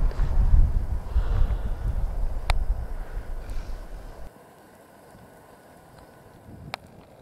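Gusty wind buffets the microphone with low rumbling at a campsite on a deserted island, then suddenly drops to a quieter outdoor hush with a few faint clicks.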